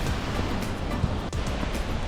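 Rushing water at the Krimml waterfalls in Austria, a steady, dense roar that stays loud and unbroken throughout, with no voices over it.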